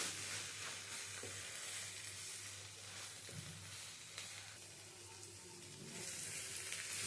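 Drumstick flower chachchari ingredients being stirred together in a frying pan, giving a steady broadband sizzle with soft spatula scrapes and a low background hum, fairly quiet and continuous.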